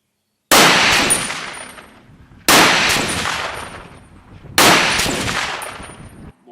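Three loud, evenly spaced shots from a Sauer 303 semi-automatic rifle in 7x64 calibre boom close by, each followed by a long rolling echo that fades before the next.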